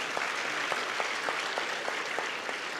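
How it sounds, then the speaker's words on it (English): Audience applause at an awards ceremony hall, steady dense clapping from a large seated crowd that continues evenly throughout without voices. "give me an applause, please."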